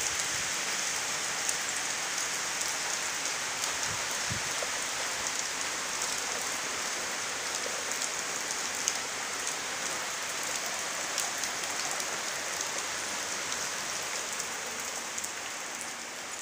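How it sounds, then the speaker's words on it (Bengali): Monsoon rain falls steadily outside a village home, a dense, even hiss of drops on surfaces with scattered sharper taps, continuous and unbroken throughout with no voices. "দেখো ও, কি যে বৃষ্টি পড়ছে"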